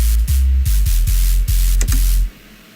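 Granular wavetable white noise layered with a heavy sub bass pulses in a rhythmic electronic pattern, loud and sustained in several hits before cutting to near silence.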